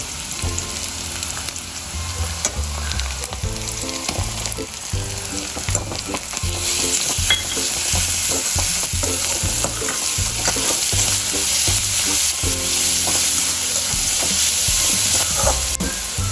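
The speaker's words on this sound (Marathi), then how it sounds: "आता आपला कांदा भाजत आलेला आहे तर आता आपण याच्यामध्ये जे मगाशी वाटण करून घेतलेलं आहे ते घालून घेऊया" Onion frying in a pan as a ground spice paste is stirred in, with steady sizzling under repeated scraping stirs that grow slightly louder partway through, no voices.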